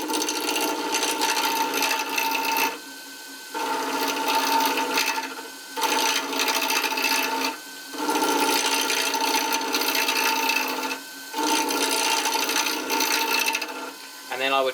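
A chisel cuts an acrylic pen blank spinning on a lathe, producing a loud, rough scraping in long passes broken by several brief pauses, close up with no speech.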